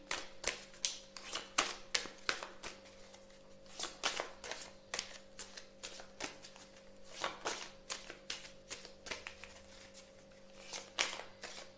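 Tarot-style cards are shuffled close by in a steady run of crisp riffling bursts, soft and alone with no voices, set against a faint constant hum.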